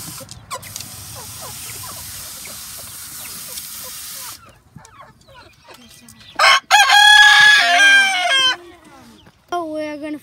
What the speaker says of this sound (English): And then there's some more chickens over here.